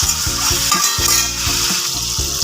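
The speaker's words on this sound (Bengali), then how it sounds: "কাঁচা লঙ্কা চেরাটা একসাথে এর সাথে ভালো করে একটু ভেজে নিই।" Slit green chillies fried and stirred in a pan for South Indian dal, giving a steady close sizzle with rhythmic scraping and stirring strokes throughout, no voices.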